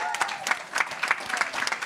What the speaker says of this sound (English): why don't we give her a round of applause?